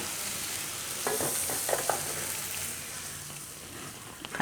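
A filling of lilva beans is stirred and pressed in a pan over the gas, giving a soft, continuous sizzle with occasional scraping taps from the spoon, close up and without speech.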